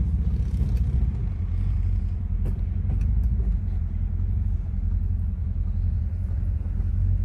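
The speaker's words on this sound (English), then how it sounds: "Car's running good. Sounds good." 1970 Oldsmobile Delta 88 engine running while driving through a parking lot, a steady deep rumble heard from inside the car, loud and continuous with a few faint clicks and no speech.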